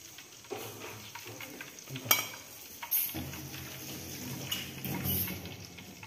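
Breaded chicken pieces fry in hot oil, with a faint sizzle under stirring and the clink of utensils against the pan nearby.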